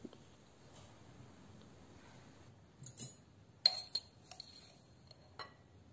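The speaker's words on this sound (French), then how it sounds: "Et je mélange bien." Beetroot salad with olive oil and sesame seeds being mixed in a small bowl, soft quiet stirring followed by a few brief clinks of utensil against the dish, with no talk.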